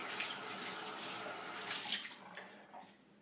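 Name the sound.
tap water wetting a shaving brush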